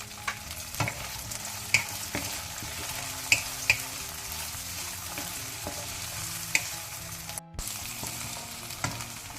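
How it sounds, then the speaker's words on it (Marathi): Green peas tossed into a hot pan with fried chillies for a Mangalorean pulao, a soft continuous sizzle with scattered clinks and scrapes of a spoon stirring, no voices. "आतां हे ग्रीन पीस ताका घालचे."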